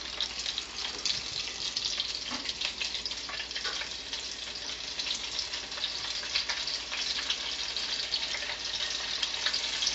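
Onion rings frying in a deep fryer, a steady, dense crackling sizzle of hot oil that continues evenly throughout, close and fairly quiet with no talking.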